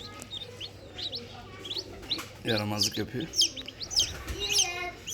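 Newly hatched Minorca and Brahma chicks peep in quick, high, bright chirps inside a 300-egg incubator. A person speaks close by over the faint steady hum of the machine.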